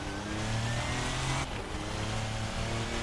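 LMP prototype race car engine in Assetto Corsa, heard from the driver's seat as a steady loud drone, with a brief shift in pitch about halfway through before the engine settles back into its hum.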